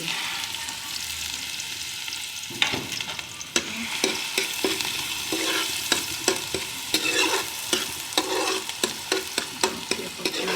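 Onions sizzle steadily in hot desi ghee for a tempering to pour over turnip greens, a loud, close frying hiss broken by repeated scrapes and clinks of a ladle stirring in the pan.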